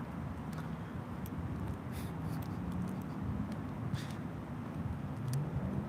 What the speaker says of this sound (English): You hear the engine sounds?